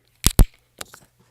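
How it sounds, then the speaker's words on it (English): Pet dog chewing on a bone close by: two loud, sharp crunches in quick succession, followed by a few fainter gnawing cracks. "I have to stop my dog from chewing on that bone because that's driving me crazy"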